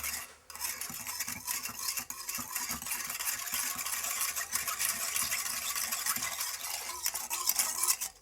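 Whisk beating homemade spray ink in a bowl, a fast continuous scraping and clinking of metal against the bowl that carries on steadily from start to finish.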